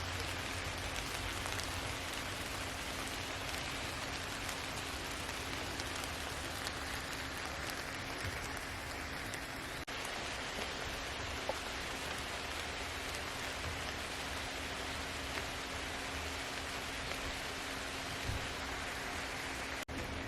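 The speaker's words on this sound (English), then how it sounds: "the sound of the rain in the woods sounds so beautiful with the pitter-patter on the leaves from the trees" Rain falls on leaves in a forest at Keystone State Park, Pennsylvania, making a steady, dense hiss of pattering drops that carries on evenly for the whole stretch, with no voices.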